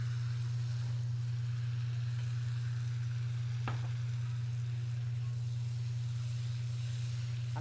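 Black chickpeas (kala chana) sauté in a spiced masala, giving a steady, even sizzle with a low constant hum beneath it throughout, with no one talking.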